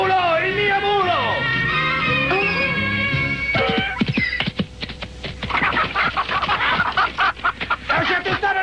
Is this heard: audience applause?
no